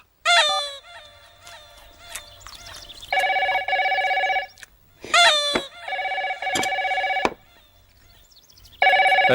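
A telephone rings in a Telugu comedy scene, with loud repeated bursts of electronic ringing separated by short pauses, alongside sharp rooster-like crowing calls.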